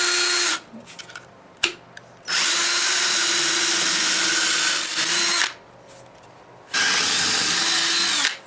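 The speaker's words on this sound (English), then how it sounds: "Next thing you're going to need to do is pre-drill your holes" Power drill pre-drilling holes in wood, three loud sustained bursts of whirring separated by quiet pauses, close and alone.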